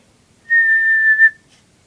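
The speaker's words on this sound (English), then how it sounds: "So, whistle and then stop, but keep your mouth in the same position like this" A single clear, steady whistled note is held for under a second, loud and close, ending with a slight wobble before silence.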